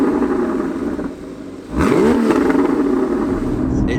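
Porsche 981 Cayman S naturally aspirated engine with a modified X-pipe exhaust, heard close and loud, dipping for a moment before revving up into a strong rising roar that holds steady.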